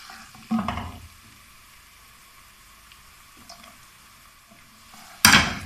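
Onions fry quietly in a pot for carrot and pea pulao, a low faint sizzle between two louder metallic clanks of a spoon against the pot, one early and one at the end.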